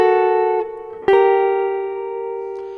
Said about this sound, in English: play each of the double stops separately like this.